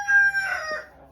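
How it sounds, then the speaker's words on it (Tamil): A rooster crows once from a farm chicken coop in Poland, a clear, fairly close call lasting about a second, with no talk. "கோழி பண்ணையும் இருக்கு, திறந்து பார்ப்போமா?"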